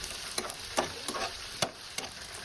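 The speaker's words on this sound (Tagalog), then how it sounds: "So, gisahin lang natin saglit ang ating chicken." Chicken sautéing in a pan with onions for a budget sisig, with soft sizzling under a few sharp stirring scrapes and clatters, close and fairly quiet, no talk.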